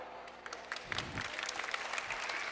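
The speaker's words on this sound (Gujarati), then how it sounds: "જો લગા થોડી તાળીઓ પાડે." Brief applause from a seminar audience, a short burst of clapping with a low thud near the start, fairly close and without talk.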